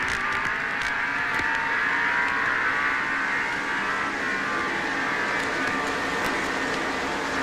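NASCAR stock cars roar around the track during the 1989 Pannill Sweatshirts 500, a dense continuous engine drone with a slight dip as drivers lift off the accelerator partway down the straights.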